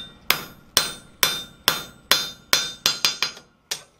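A hammer strikes a square steel bar for a chasing tool on an anvil, with about ten sharp ringing blows. The strikes come in a steady rhythm at first and then speed up, loud and close with no talking.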